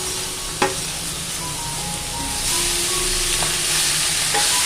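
A pan sizzles steadily as bitter gourd stir-fries with urad dal, with a brief clatter early on and the frying noise swelling slightly louder partway through.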